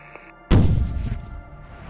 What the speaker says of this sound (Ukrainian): наші два дрони створили дуже і дуже потужний вибух